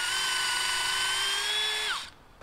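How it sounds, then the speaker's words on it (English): A cordless drill with a 5/16 bit bores a tap hole into a maple tree, a steady close whine holding pitch for about two seconds before winding down abruptly and stopping. "As far as tools, you need a drill with a 5/16 bit"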